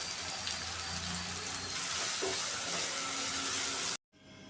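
Chopped onions and tomatoes frying in a pan give a steady, loud broadband sizzle that runs continuously for about four seconds and then cuts off abruptly.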